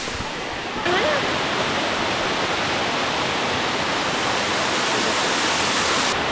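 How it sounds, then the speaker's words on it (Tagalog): Loud, steady roar of rushing water from Kaparkan Falls in Tineg, Abra, Philippines, beginning abruptly after a short quieter moment and continuing evenly, close and dense. "Nakaka-relax yung tunog ng tubig."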